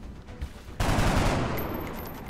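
Gunfire erupts in XCOM Long War: a sudden loud burst of rapid shots after a short quiet lead-in, followed by a sustained rattling roar that slowly tails off.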